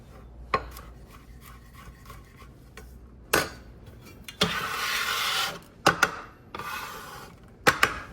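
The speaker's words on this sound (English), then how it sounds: "get a couple cloves of garlic, flatten them out, peel the skins off of those" Garlic cloves being crushed flat and peeled on a kitchen board: a few sharp knocks, then a rasping, papery rub of skins coming away, close and fairly loud with quiet gaps between.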